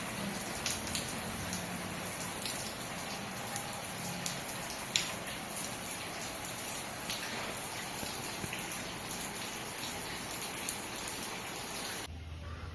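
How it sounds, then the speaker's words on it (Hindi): Heavy monsoon rain falling outside a home kitchen, a steady dense hiss of drops throughout at moderate distance, with scattered louder splashes and no talking. "ये देखिए कितनी माशाल्लाह ज़बरदस्त बारिश हो रही है"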